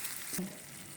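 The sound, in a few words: squid stir-frying in oyster sauce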